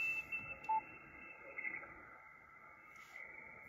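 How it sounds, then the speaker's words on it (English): High-pitched interference whines through amateur radio reception, a steady tone over a hissy band with brief bursts of noise, no speech heard. "I'll shift very negative because that's a high pitch interference."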